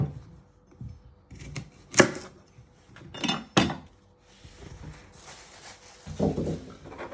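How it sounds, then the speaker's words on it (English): A knife chops the ends off carrots on a board, a handful of irregular sharp knocks and clacks with scraping between them, close and clear in a quiet kitchen. "You first want to chop off your ends off."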